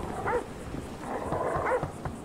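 A dog in a video game gives a few short, fairly faint yips and barks in quick succession, mixed with background game sounds and a little speech.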